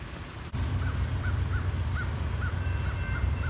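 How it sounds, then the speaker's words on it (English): Outdoors, a crow caws repeatedly in a steady series of about eight short calls, moderately distant, over a constant low rumbling background. "That bird won't shut up."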